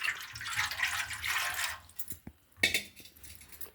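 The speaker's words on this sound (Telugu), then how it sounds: "ఇందులోకి వాటర్ వేసేసుకుంటున్నాను అనమాట" Water poured into a pot in a home kitchen, a faint splashing trickle for a couple of seconds, then a few drips and a second short pour; no talk.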